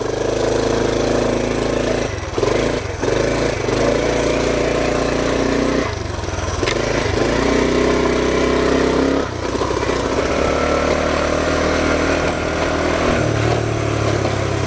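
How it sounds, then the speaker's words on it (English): A Honda CT110 trail bike engine drones steadily up close while riding a trail in Kaibab National Forest, with a few brief dips and shifts in pitch as the throttle changes. "I think I'm gonna go out, do some exploring on the trail bike, bring you guys along."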